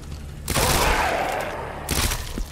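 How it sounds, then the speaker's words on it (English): Loud gunfire in Resident Evil 2 Remake as a dog is shot: a heavy burst of blasts followed by a second burst about a second and a half later, with no talking. "I have to shoot down a dog?"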